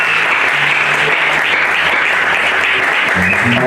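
Loud, dense applause and cheering from a church congregation at a gathering of ministers in Port-Gentil, a continuous roar of clapping with voices mixed in throughout.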